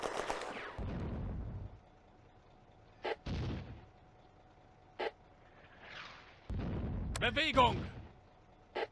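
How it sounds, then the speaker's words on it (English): Soviet mortar rounds firing and bursting in the World War II game Firefight, set in a July battle around Nesterenky village on the Eastern Front: a heavy boom at the start, then short sharp reports and a rumbling burst mixed with voices and shouting. "Soviet mortars fire near where the anti-tank rifle team were headed."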